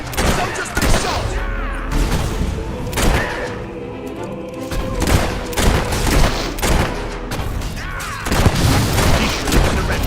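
Soldiers are shot in Fable 3 with repeated loud gunshot booms and bursts at irregular intervals, dense and close, with faint voices underneath.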